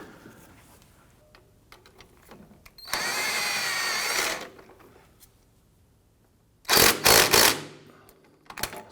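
A power tool snugs a rear clevis fork bolt on a 2004-2008 Acura TL front sway bar link, two loud bursts of drilling whir, the first about 1.5 seconds long, the second shorter and choppy, between quiet shop clatter.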